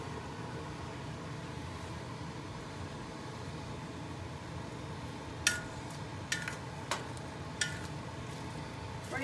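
Celery and onion hit a hot pan for sausage stuffing, giving a steady broadband sizzle with no talk over it, and a few sharp clinks of a utensil against the pan near the end.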